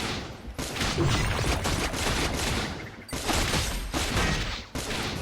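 Heavy gunfire during a boss fight in the mobile shooter Metal Slug: Awakening, loud and continuous, in dense sustained barrages broken by a couple of brief gaps.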